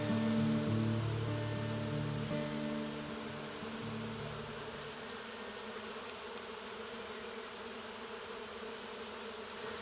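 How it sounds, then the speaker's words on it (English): A colony of bees swarms around a tree, making a steady, dense buzzing drone that fills the scene; a low tonal hum in the first few seconds fades out, leaving the even insect buzz alone. "We have up here just an entire colony of bees creating some type of amazing magnetic force field around this tree."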